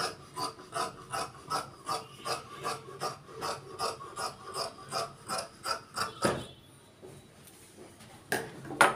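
Scissors cut through fabric for a Patiala pant in a quick, regular series of crisp snips at close range, followed by a brief pause and a final snip.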